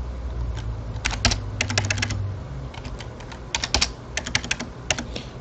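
Close computer keyboard typing in quick bursts of clicky keystrokes, pausing between runs, with no voices over it.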